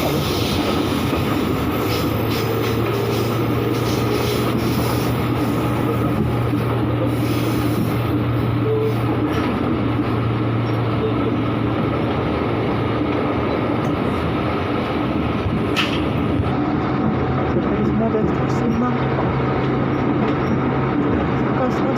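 A Jakarta commuter train on the Bekasi line rumbles through Manggarai station, a loud, steady roar of wheels and motors with hum and clatter throughout and a voice faintly beneath.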